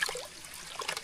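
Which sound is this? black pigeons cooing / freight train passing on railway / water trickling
water trickling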